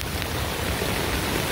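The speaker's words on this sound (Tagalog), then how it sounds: "ang lakas ng ulan." Heavy rain pouring steadily during a red rain signal storm, a dense, unbroken wash of downpour noise close by, with no talking.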